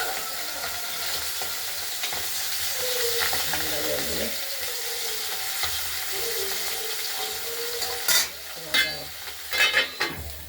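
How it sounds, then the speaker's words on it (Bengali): Steady sizzling of tilapia fish frying in hot oil fills the background, with a few louder clatters near the end and brief talk over it. "ভাজা হোক।"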